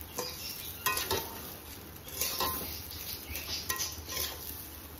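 Spices and Kashmiri red chili powder are stirred into rice in a pan for Bengali basanti pulao, with soft repeated scraping and clinking of a spoon against metal and faint background hiss.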